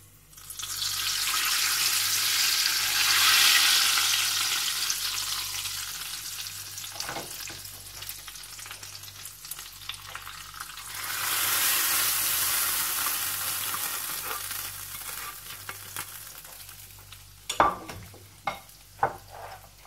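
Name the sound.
tempering spices sizzling in hot oil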